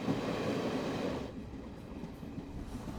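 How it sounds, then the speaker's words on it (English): An Indian passenger train pulls out of a station at dusk, a low rolling rumble of railcars that starts louder, then settles into a steady, quieter clatter. "as the train pulls out of the station and dusk sets in"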